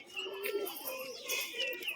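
Pigeons at a loft coo in low, soft murmurs, several overlapping birds heard fairly close, with faint chirps and background activity mixed in.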